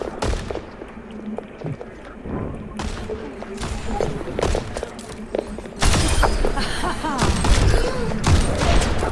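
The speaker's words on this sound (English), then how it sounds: "Where am I getting shot from?" Video game gunfire, with repeated sharp shots and bursts that trade back and forth and grow into heavier, louder volleys toward the end, as a player speaks over the fighting.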